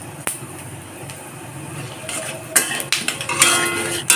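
Dry red chilli and panch phoron tempering in hot mustard oil in a kadai for a raw banana dish, with a sharp crackle and sizzle rising at mid-clip amid pan clinks and spoon scrapes.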